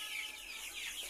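Free-range native chickens raised in a small garden plot cluck steadily and close by, a continuous hen chatter with no voices over it.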